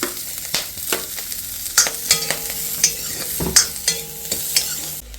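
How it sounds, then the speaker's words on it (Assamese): Onions fry in a pan with green chillies, a steady sizzle broken by repeated scraping knocks of a spatula stirring them, close and clear with no voices. "এতিয়া পিঁয়াজখিনি ধুনীয়াকৈ ফ্ৰাই কৰোঁ"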